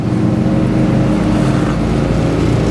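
A 1966 Pontiac GTO convertible with a Tri-Power V8 and four-speed runs under a light throttle, warming up, giving a loud, steady, close engine rumble with no voices.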